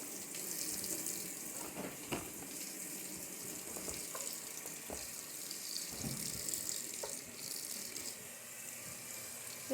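Water rushes steadily into a washing machine filling for a load of light-colored fabric, a continuous hissing flow with occasional faint knocks and clunks, fairly quiet and without talk.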